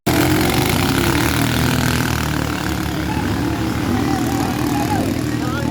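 Racing boat engines at a Malita bankarera event roar continuously, a loud, dense, buzzing drone that holds steady throughout, with a voice speaking faintly beneath.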